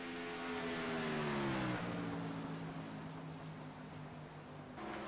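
Race car engines in the iRacing sim game, a loud droning note that rises and shifts in pitch as cars pass close by, with no talk over it.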